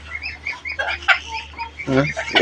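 A small egg-laying hen clucks near at hand in short, uneven bursts, with some faint background noise.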